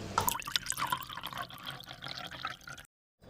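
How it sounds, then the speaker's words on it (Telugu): A glass of water poured into a pressure cooker of spiced potato curry for hotel-style poori curry, a close, steady splashing and trickling pour that runs for nearly three seconds and then cuts off. "మనం ఇప్పుడు ఒక గ్లాస్ వాటర్ పోసేసుకొని"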